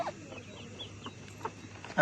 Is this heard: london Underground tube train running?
no